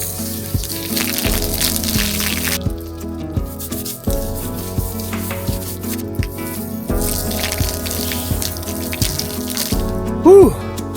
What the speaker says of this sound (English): And that's how you shower with the Arkto Camper rear shower in the wilderness.